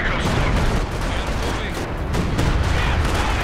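Soviet mortar barrages in Company of Heroes 2, a dense continuous rumble of overlapping blasts and gunfire in a large 4v4 battle on the Steppes map, loud throughout.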